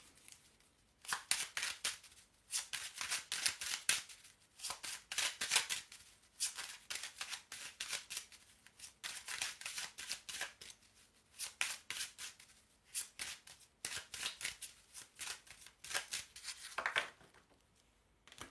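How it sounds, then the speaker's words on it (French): Oracle cards are shuffled at close range in repeated crisp riffling bursts, with brief pauses between them, quiet and alone, before a 13-card reading. "je fais le tirage en 13 cartes"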